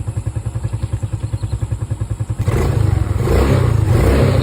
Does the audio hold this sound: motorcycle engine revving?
yes